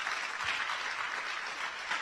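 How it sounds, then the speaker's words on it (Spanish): Dense, steady applause from a church congregation filling the whole stretch, loud and continuous with no voices on top. "Alguien denle un aplauso a Dios."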